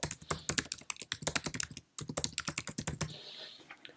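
Rapid, close keystrokes on a Mac desktop computer keyboard as an email address is typed, a steady clatter with one brief pause midway and no talking.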